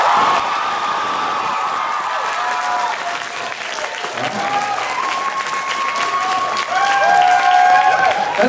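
Sustained audience applause from an anime dating game show, a dense wash of clapping with scattered cheers and whoops, loud and steady throughout, with some voices rising over the crowd.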